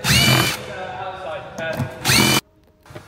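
A power tool drives out 10mm bolts on a Tesla Model 3 during upper control arm replacement, two loud whirring bursts at the start and near the end with quieter rattling and handling noise between.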